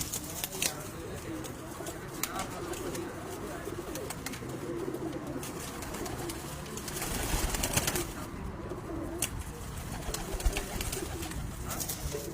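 Many pigeons kept at a house, cooing softly and repeatedly in a low, rolling murmur at moderate distance, with a faint flutter and steady background ambience throughout.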